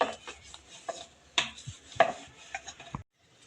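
A rolling pin works a thin dough sheet for spring rolls, giving soft, irregular knocks and rolling thuds against the board, close and quiet, with a short silence at the end.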